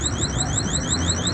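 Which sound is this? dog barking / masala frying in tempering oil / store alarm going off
store alarm going off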